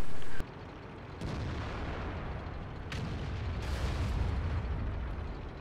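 A tank cannon shot in a tank battle video game, a sharp broadband blast followed by low rumbling battle noise and another muffled report in the distance.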